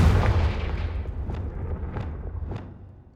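Confringo blasting spells from Hogwarts Legacy going off as a dull rumbling blast followed by three sharp separate booms spaced evenly, fading out at the end.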